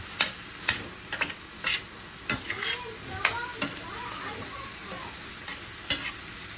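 Vegetables and sausages for gumbo sweat in a pot, a soft steady sizzle broken by repeated sharp clicks and scrapes of a spoon against the pot, close up with no talk.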